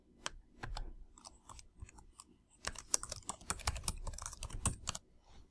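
Quiet, close computer-keyboard typing while a form title is entered: a few scattered keystrokes, a short pause, then a quicker, denser run of clicks.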